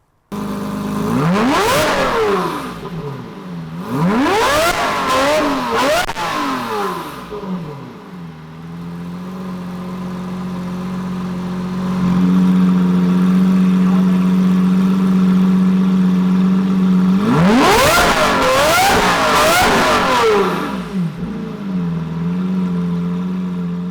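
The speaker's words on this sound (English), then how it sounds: "I can make it just insanely crazy loud, shooting flames at the back end." A Lamborghini Murcielago SV engine revs hard in three loud bursts with a roaring valved exhaust, settling into a rumbling idle between them.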